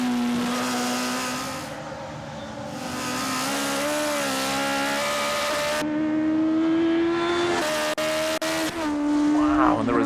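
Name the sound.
tuned Mini race car engine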